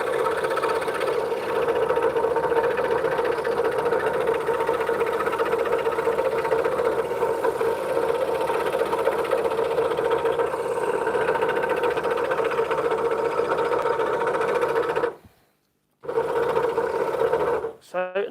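A scroll saw buzzes steadily as it cuts a cat shape, its blade carefully working around the cat's pupil. The drone holds level and close for most of the stretch, then cuts out for a moment near the end.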